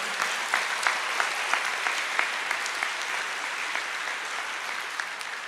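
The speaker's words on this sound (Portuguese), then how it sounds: "Vamos aplaudir ao Senhor." A congregation applauds in a church with steady, lively clapping and sharp individual claps standing out, loud and continuous throughout with no talking.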